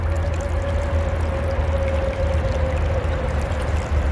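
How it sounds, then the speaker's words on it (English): A small creek in Pennsylvania in January flows steadily with a gentle, constant watery rush and low rumble, unbroken and close by. "Just a quiet little creek."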